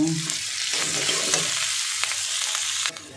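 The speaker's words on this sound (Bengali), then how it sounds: "আর দিয়ে দেবো এই কারি পাতাটা দিয়ে দেব, দিয়ে আরেকটু ভেজে নেব।" Green chillies and curry leaves sizzle in hot oil in a home kitchen pan, a steady close crackling hiss with a few soft stirring scrapes throughout.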